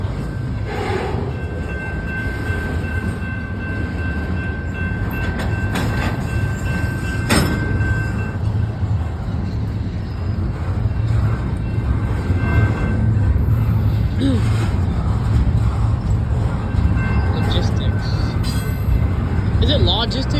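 A train rolls past steadily at a train meet in Fosterville, Tennessee, with rumbling wheels and rail clatter and occasional squeals and clanks building in loudness over twenty seconds. People talk at times in the background.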